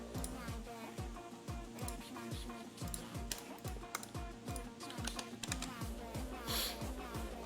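Quick clicky taps on a computer keyboard during a live coding stream, a steady run of light keystrokes at a low level with noise reduction applied, no speech over them.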